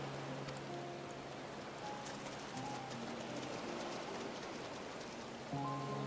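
Steady rain falls in the Final Fantasy XIV game world, a soft, even hiss of drops at low volume with faint ambient tones layered beneath, continuous and without speech.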